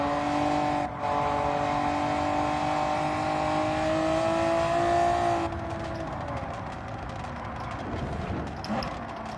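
A race car in Gran Turismo 7 freewheels along the track, its steady engine tone droning loud and close, then dropping away after a shift into a rougher, lower rumble with faint tire noise.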